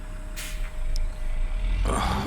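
A Mack truck in American Truck Simulator with Z-mod sound fires up: a brief hiss of air, then the diesel engine catches and settles into a low, steady rumble.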